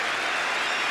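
Crowd applause at the 1980 FA Cup Final between Arsenal and West Ham, a dense, loud burst of clapping from a large stadium crowd, brief and unbroken.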